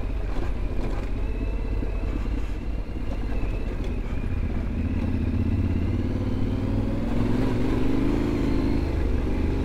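A Yamaha Ténéré 700 motorcycle ridden on mountain roads in the Mont-Blanc region, steady loud engine drone with rising revs toward the end, close and continuous with wind rumble.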